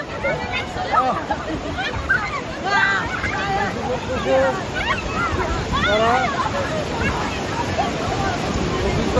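Steady surf washing over the beach at Cox's Bazar, a broad continuous roar beneath lively crowd chatter and scattered voices nearby.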